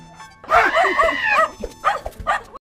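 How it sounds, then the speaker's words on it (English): Cartoon dog barking in an animated anime scene, a few quick yelping barks in close succession followed by shorter yips, loud and close, with no talk over them. "The dog barked, and they left the grandmother's."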